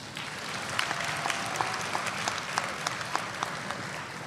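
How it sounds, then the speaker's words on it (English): Audience applause at a university Black History program, a steady wash of many hands clapping with a few sharper individual claps standing out, moderately loud and unbroken. "Let's give us a round of applause."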